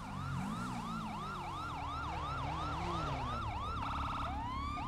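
Video game emergency vehicle sirens wail continuously in a loud, fast up-and-down pattern, then switch to a rapid yelp and a rising tone, with an engine rumble underneath.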